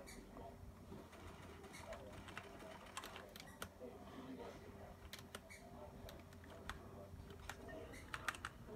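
Keys clatter steadily on a newly swapped computer keyboard during a Fortnite game session, a dense run of light clicks with a few sharper taps, heard close under faint background game sound.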